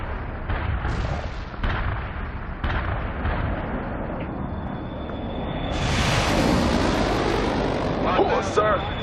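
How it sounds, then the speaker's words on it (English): Artillery strike explosions in the real-time strategy game World in Conflict, several deep booms and thuds in succession followed by a swelling rumble and roar, with a voice speaking over the battle. "A perfect artillery hit."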